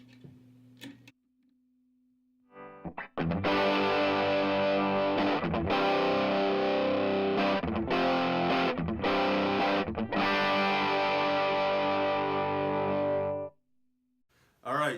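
A 1953 Gibson GA-40 guitar amp cranked to full volume, blasting loud distorted electric guitar chords and riffs for about ten seconds after a quiet hum, with brief breaks between strums before falling silent.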